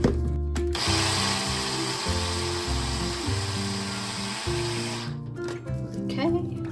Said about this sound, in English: I'm just gonna use my little Ninja blender here